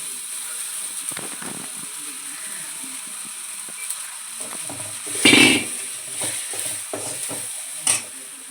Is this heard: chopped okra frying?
yes